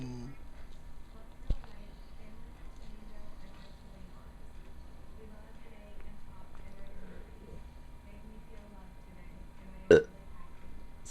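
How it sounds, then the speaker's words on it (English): A man's single brief burp sounds against quiet background hum, and a sharp click comes later. "just burped."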